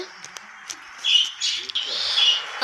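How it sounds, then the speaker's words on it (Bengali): Birds squawk and chirp in a driving video game, a few short, bright calls repeating over a steady background of road and engine noise. "দেখো না, পাখি চিৎকার করছে।"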